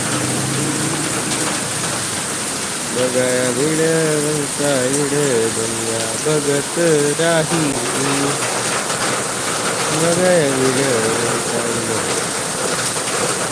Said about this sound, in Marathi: पाऊस पाऊस पाऊस आणि पाऊस